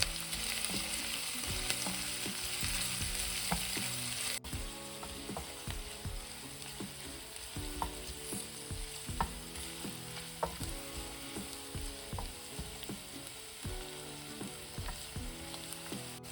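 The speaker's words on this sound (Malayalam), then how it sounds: "ചെറിയുള്ളി നമുക്കൊരു ബ്രൗൺ കളർ ആവുന്ന വരെ ഒന്ന് മൂപ്പിച്ചെടുക്കണം." Shallots sauté in hot oil in a pan for a Kerala beef fry, a steady close sizzle with frequent small stirring scrapes throughout.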